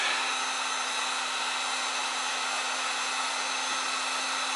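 Heat gun blowing hot air while heating polystyrene for solvent welding an ebike battery case, a loud, steady, high-pitched whirring hiss with a constant tone, close and unbroken throughout.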